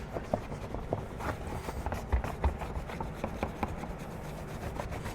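A microfiber towel rubs Armor All Heavy Duty Non Slip Protectant into a floor mat, working into the crevices, making soft, close, irregular scuffing and brushing strokes at low volume.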